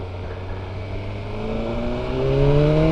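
A 2025 BMW M 1000 R Competition motorcycle engine on a road ride, a smooth whirring drone with rising pitch as it accelerates and grows louder toward the end.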